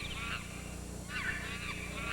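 Honking, goose-like bird calls ring out in short bursts over a steady low drone as sound effects in a Dimanche Gras carnival band performance themed on nature's beauty.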